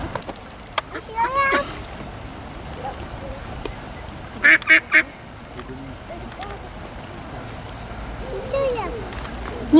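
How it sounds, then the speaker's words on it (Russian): A few short nasal quacks from a duck sound nearby, including a quick run of three, while people talk softly around them outdoors in France. "Кря-кря-кря, уточка говорит."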